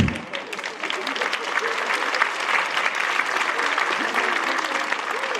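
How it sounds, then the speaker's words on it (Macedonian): Audience applause at a live comedy show, a dense, steady wash of many hands clapping that carries on throughout with a crowd's murmur mixed in. "Одма, аплауз, браво, добре."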